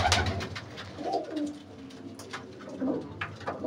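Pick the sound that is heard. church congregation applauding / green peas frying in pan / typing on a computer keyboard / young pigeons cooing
young pigeons cooing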